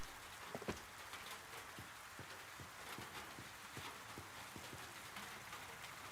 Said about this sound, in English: Sound design is pretty nice, with the rain falling down on the metal.